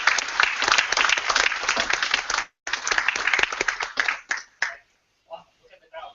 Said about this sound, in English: Please help me welcome, round of applause